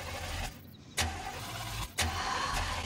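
An old car's engine cranks and tries to catch, with a couple of sharp bursts as the starter turns over amid a rough, fairly quiet idle-like rumble close by.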